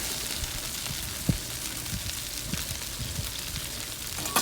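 Double-cooked pork belly stir-frying in a wok with a crusted cornstarch coating, giving a steady close sizzle and crackle with a few soft clunks as the meat is tossed.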